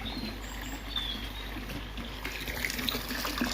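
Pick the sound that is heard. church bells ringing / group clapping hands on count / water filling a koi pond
water filling a koi pond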